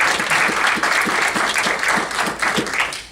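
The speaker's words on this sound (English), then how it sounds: "can we also give Erin and Mel a round of applause for all their time and energy?" An audience at a community gathering gives a round of applause, many hands clapping together in a loud, full burst that swells and dips slightly before starting to fade at the end.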